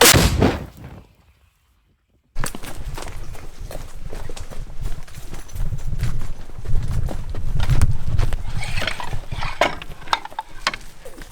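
A heavy artillery gun of a Ukrainian unit fires with a loud blast, then after a brief silence another powerful boom rolls into sustained rumbling and mechanical clatter.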